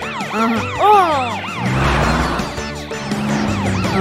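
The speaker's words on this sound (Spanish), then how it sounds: "¡Usa tu sirena para que los bebés te escuchen!" A cartoon police super truck sounds its siren, a loud wailing tone sweeping up and down repeatedly, then shifting to a steadier, layered siren pattern.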